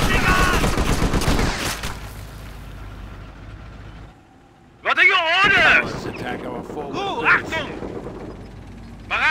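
Gunfire in Company of Heroes with the Europe at War mod, Waffen SS grenadiers in combat: a loud rapid burst of shots, a short lull, then more firing mixed with shouted voices.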